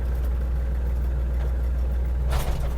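An Iseki TG-31 mini tractor's engine runs steadily with a deep low drone and even idle-like throb, close by, while the PTO speeds are switched; a brief clunk or rattle near the end.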